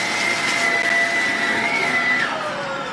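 A vacuum cleaner sucks up excess loose screws from inside an electrical fixture, a steady close, loud whining drone with a sustained high tone that shifts pitch slightly partway through, with no talking.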